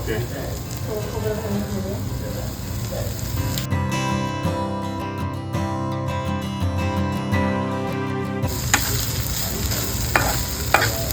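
Grated fresh coconut sautéed and stirred in hot oil for a spiny gourd (kantoli) stir-fry crackles and sizzles close up, with spatula scrapes. A steady tonal, music-like passage interrupts the middle before the frying returns.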